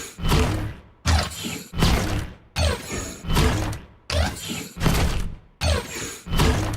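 Repeated bursts of the Dark Star Orianna skin's auto attack effect from League of Legends, about seven sharp whooshing impacts in a steady rhythm, each cutting off abruptly, loud and close.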